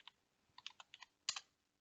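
Someone types on a computer keyboard in a quiet room: a handful of light, separate keystrokes, then a sharper double press near the end.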